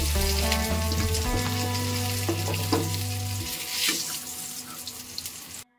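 Eggplant pieces frying in hot oil in a home kitchen: a continuous close sizzle with a low hum beneath, cutting off abruptly at the end.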